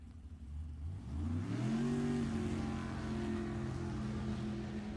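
A 604-cubic-inch Ford Fairlane drag racing car engine at a nostalgia drag race roars and climbs in pitch during the first two seconds, then settles into a loud, sustained drone whose tone sags slightly, with no talking over it.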